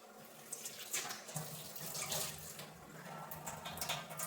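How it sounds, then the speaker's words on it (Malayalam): Tap water runs steadily into a sink while crushed coconut is rinsed ahead of grinding in a mixer, a continuous close splashing stream with small surges and no talk. "ഇത് കഴുകി വെള്ളം ഒഴിക്കാം."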